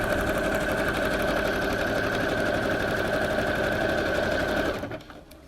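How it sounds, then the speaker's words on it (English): A sewing machine runs continuously and loudly, stitching stacked black and white satin ribbons in a steady whirring drone that stops abruptly near the end. "Okay, so we're going to start sewing."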